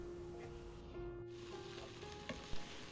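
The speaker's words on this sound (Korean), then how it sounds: "제일 먼저 잘라놓은 김치를 볶아주세요." Kimchi stir-fries in perilla oil in a wok, a faint, steady sizzle with a couple of soft scraping knocks toward the end, with no talking.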